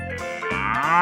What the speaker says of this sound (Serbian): Veliki prijatelj pase po zemlji, krava sa nežnim očima i tako smeđim pegama.